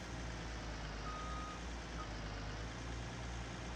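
Reversing beeps from a vehicle in Farming Simulator 19: a faint, thin tone sounds briefly over a steady, loud engine rumble that fills the whole stretch.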